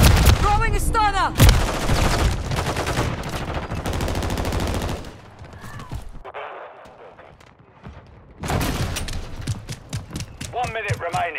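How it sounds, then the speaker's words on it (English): Gunfire and explosions from a mortar strike rattle through a Call of Duty: Modern Warfare 3 battle, with bursts of automatic fire and blasts, a lull, then heavy shooting again, with voices calling out among the combat. "Friendly mortar strike inbound."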